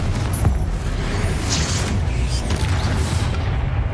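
Spells cast in the video game Hogwarts Legacy, including a Confringo blast, heard as dense booming bursts and whooshes over a rumbling low backdrop, with short sharp accents in quick succession.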